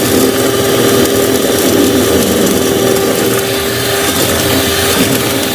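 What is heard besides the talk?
cheap electric hand mixer running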